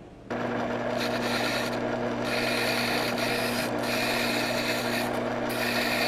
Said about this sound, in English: as the wheel spins, you'll be able to see through it clearly and see the cutting edge being sharpened